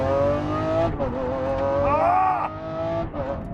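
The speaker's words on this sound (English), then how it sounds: "I am driving a 2020 Lamborghini SVJ" A 2020 Lamborghini SVJ engine roars loudly and steadily, its pitch rising and falling as it revs through gear changes, close and alone.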